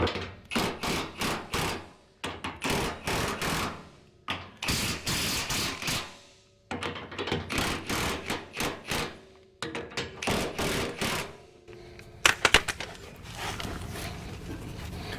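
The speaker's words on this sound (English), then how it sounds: "I'm going to use an impact gun on mine." An impact gun works an axle nut in bursts of rapid rattling hammering, each lasting about a second, repeated several times with short pauses, close and fairly loud.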